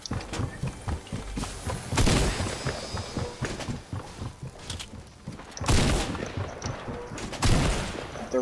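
AK rifle fire in the battle royale game Fortnite, rapid bursts of sharp shots with heavier thumps mixed in, loud and dense throughout the stretch, no voices.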